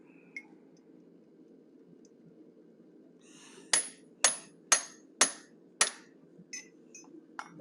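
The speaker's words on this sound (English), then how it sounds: "we're going to finish off the ears using a pointed punch" A hammer strikes a pointed punch to forge the ears on a cougar head, five or six sharp metallic clinks in a steady rhythm over a low background hum, then a few fainter taps.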